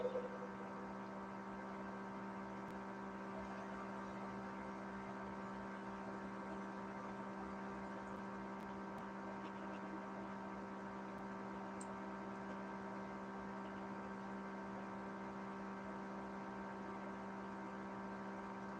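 A steady white noise hum from a spirit box session runs without a break at low level, an even electrical drone with no voices over it.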